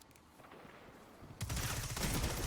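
Player's gun firing in a video game, a quiet first half giving way to a sudden loud burst of rapid automatic gunfire that continues to the end.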